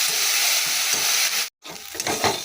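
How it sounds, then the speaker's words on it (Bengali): Sliced bitter gourd fries in fish oil on a gas stove, giving a dense, close, continuous hiss and sizzle that cuts out for a moment before resuming. "উচ্ছেগুলো ভেজে নিই জানো"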